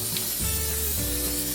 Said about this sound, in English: you're going to spray a 9x13 pan with cooking spray